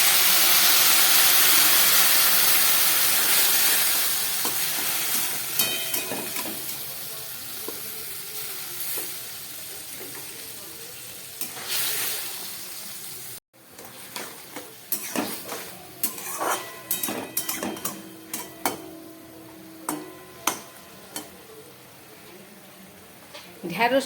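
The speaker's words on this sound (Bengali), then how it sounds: "ঢ্যাঁড়সটা ফুটে উঠেছে।" Okra in a pan on a gas stove after a little water is added to the fried okra: a loud sizzling hiss that fades into softer bubbling and scattered clinks of a utensil against the pan, close up.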